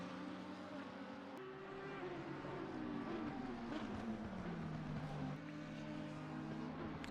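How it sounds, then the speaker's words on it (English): Race car engines in a sim racing game at Hungaroring, a steady droning engine note with slowly shifting pitch as cars run on, continuous and fairly loud throughout with a faint voice underneath. "I've raised the volume for the cars, so just let us know if it's a little too loud"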